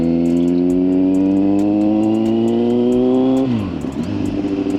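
A Kawasaki Z900 with a Leo Vince aftermarket exhaust and airbox removed revs up in a rising, throaty whine with a loud exhaust note, then drops off sharply and settles into a rough idle.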